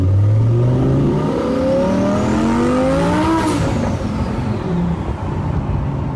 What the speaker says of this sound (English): It literally drives like a stock Lamborghini Huracan, but it has that extra power.